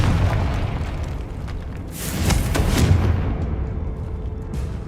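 A Confringo spell explosion in Hogwarts Legacy booms out as a loud, close blast with a deep rumbling body and a crackling burst that swells and fades over a few seconds.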